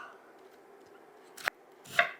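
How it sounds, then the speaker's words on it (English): A knife chops cabbage on a cutting board for a cabbage and sausage skillet meal, with two sharp, separate cuts at the end after a quiet, hushed lead-in. "Give myself some time to get the cabbage cut up."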